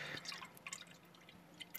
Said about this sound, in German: Hört ihr das, wie es plätschert?